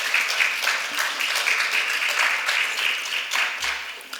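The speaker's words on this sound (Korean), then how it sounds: "우리 그들 위해서 한번 박수 한번 줄까요?" A church congregation at a Sunday service breaks into applause, a full, steady clatter of many hands that carries on for several seconds and tails off at the end, with a brief low thump near the close.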